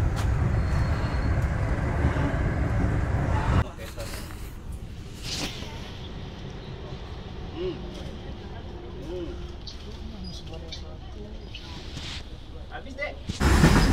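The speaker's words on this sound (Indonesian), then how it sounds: "kereta api Rajabasa diberangkatkan dari stasiun Batu Raja" The Rajabasa passenger train, hauled by a slant-nosed CC201 diesel locomotive, pulls out of Baturaja station; a loud rumble at first, then steady rolling noise inside the carriage, with a few knocks and muffled voices.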